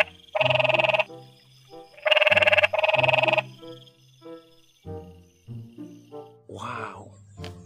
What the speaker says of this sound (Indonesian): Ini ada kodok.